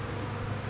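A swarm of honeybees hums steadily close up, a dense, even drone that fills the whole moment without any talking.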